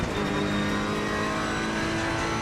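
Ferrari 488 Evo race car in the sim racing game Assetto Corsa Competizione at Imola accelerates hard, its engine a loud, steady, tonal roar held throughout without a voice.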